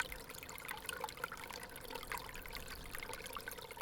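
Faint water trickles and gurgles softly and continuously at a desert oasis in Cataviñá, Baja California, in winter, with a low outdoor hiss and no voices.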